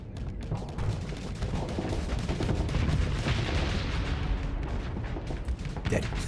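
Reaver torpedoes firing and exploding in the space game Starsector, a dense, continuous roar of blasts and booms that stays loud throughout.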